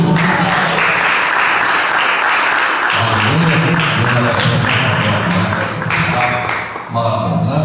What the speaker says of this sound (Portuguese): Receba o nosso pastor com as palmas para o Senhor Jesus.